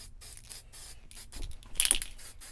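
Short hissing bursts of a spray can of primer, several quick pulses close by, with one louder spurt near the middle.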